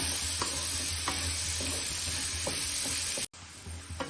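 Carrots and beans sautéing in a pan for vegetable bonda, a continuous close sizzle with periodic spatula stirs and light scrapes, briefly cut off before resuming.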